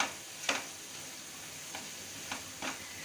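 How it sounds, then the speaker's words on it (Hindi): Potato and cauliflower cooking with mint and spices in a pan on a gas stove at medium heat, with a faint sizzle under several separate light scraping stirs of a spoon. "इसको मिक्स कर दीजिए, गैस स्लो रख दीजिए मीडियम में।"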